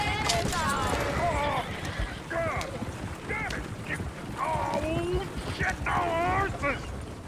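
Horses and a stagecoach in the Red Dead Redemption 2 video game, with hoof clip-clop and whinnies running under lively talk from several characters throughout.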